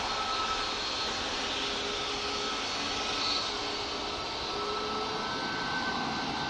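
A jet aircraft leaving Manchester Airport for Paris gives off a continuous, moderately loud engine rumble and hiss that stays fairly even throughout, heard from a distance with no speech.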